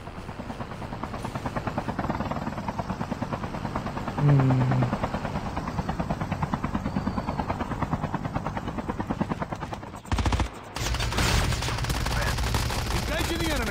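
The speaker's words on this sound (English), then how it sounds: "Chopper, chopper." A helicopter's rotor in Call of Duty: Mobile battle royale thumps steadily and loudly throughout, with bursts of gunfire and other game sounds around it.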